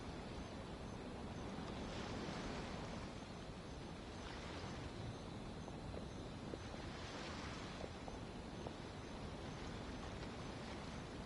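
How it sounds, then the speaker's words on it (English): Ocean waves at a harbor in the game Genshin Impact wash in a soft, continuous surf with gentle swells rising and falling, faint and ambient, with no voices. "You mean the sound of the ocean?"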